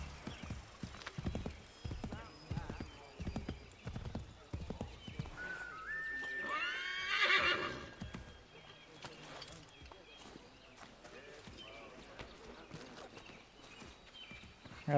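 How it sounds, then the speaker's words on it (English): Horse hooves clip-clopping in Assassin's Creed III on PC, a steady galloping rhythm with a whinny partway through, mixed with game sounds while someone talks over it. "Vai, cavalo! Cavalo chorão."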